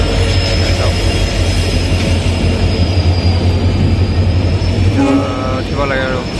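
A train pulls into Nalbari station in Assam amid a steady loud rumble of wheels on rails, with a high sustained squeal and brief horn-like tones near the end, while people talk nearby.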